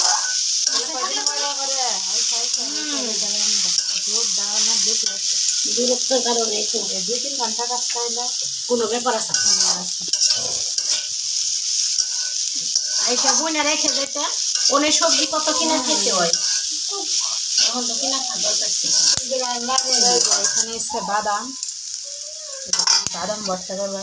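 Food sizzles and fries in a pan with a steady hiss, occasional stirring clinks underneath, while people talk over it throughout.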